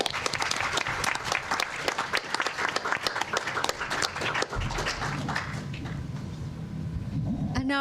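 An audience applauds a panel at the close of a session on history and state violence, with dense, sustained clapping from a large crowd that thins out and fades, and some voices mixed in beneath it.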